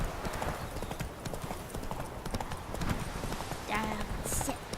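Galloping horse hooves pound in a steady, rapid clip-clop as Roach runs in The Witcher 3, with game music and ambience running continuously underneath.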